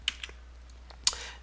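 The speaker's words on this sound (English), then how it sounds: "first I'm going to press the Tab key, Tab on my keyboard" A single Tab key press on a computer keyboard while modeling a toy car shape, heard as a few faint clicks with one sharper keystroke near the end, alone in a quiet room.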